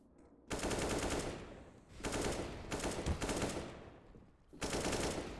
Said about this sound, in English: Like the AK just spamming